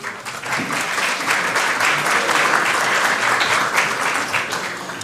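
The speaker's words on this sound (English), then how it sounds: "A well-deserved applause." Steady audience applause fills the hall after a talk at a Romani Week event, dense and sustained clapping at even loudness throughout with no voices over it.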